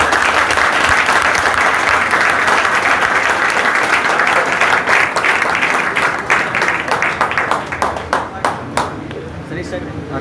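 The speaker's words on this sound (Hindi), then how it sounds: "एक बार सर के लिए और बच्चे के लिए दोबारा ताली।" Audience applause for a teacher and a student at a Noble Academy prize event, dense steady clapping from a crowd that thins into scattered individual claps toward the end, with a voice speaking over it.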